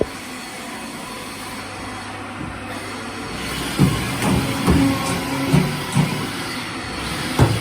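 Way cover seals clonking on a Haas VF3 CNC machine, a steady mechanical whir with a series of dull repeated clonks in the second half, close and alone.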